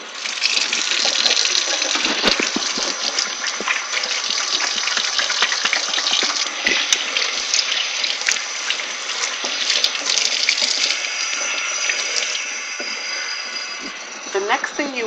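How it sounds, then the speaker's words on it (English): A bathroom sink tap runs steadily while hands are washed beneath it, a bright continuous hiss of water with small splashes and shifts in the flow, close and loud throughout. "I'm going to wash my hands real quick"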